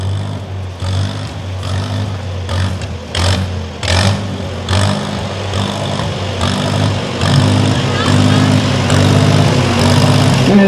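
A Co-op E3 vintage tractor engine runs at a harvest festival, chugging steadily and loudly with clattering knocks, and a broad outdoor hubbub that grows slightly fuller toward the end.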